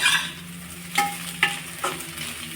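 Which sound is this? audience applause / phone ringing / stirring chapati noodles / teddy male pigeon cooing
stirring chapati noodles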